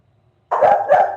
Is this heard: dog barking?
yes